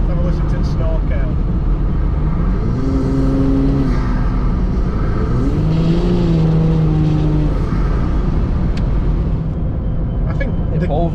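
A stock Volkswagen Touareg V6 engine drones and revs through an off-road snorkel, a loud, rising and falling growl with harmonic sweeps, while people talk over it.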